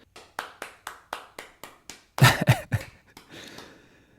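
One person claps alone in an even, steady rhythm of about ten sharp claps, then a louder, denser flurry of claps and breathy sounds follows near the end.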